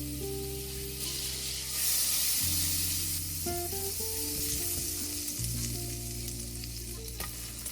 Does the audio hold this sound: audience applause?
no